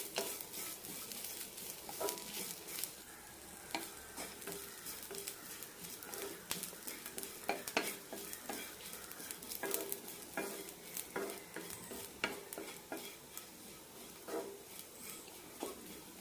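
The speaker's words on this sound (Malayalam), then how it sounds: "തേങ്ങ ചെറുതായി ചോക്കുന്നവരെ വറുത്തെടুക്കാം." Grated coconut roasting in a pan, a faint continuous sizzle under a steady series of spoon strokes and light scrapes against the metal, rhythmic stirring carrying on for over fifteen seconds.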